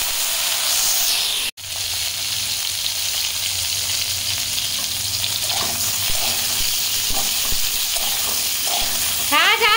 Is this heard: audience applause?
no